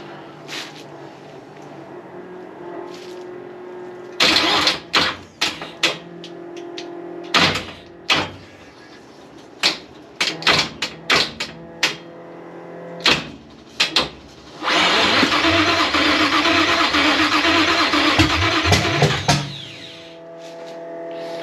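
A 1966 Chevy Nova engine, unrun for 33 years, cranks and sputters in repeated bursts with late ignition timing, then catches and runs roughly for several seconds before cutting out.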